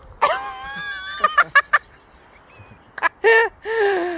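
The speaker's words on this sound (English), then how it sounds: "how noisy they are, isn't it? Yeah. It's the chickens." Chickens cluck and squawk loudly nearby in a burst of overlapping calls, with short sharp cackles and drawn-out cries.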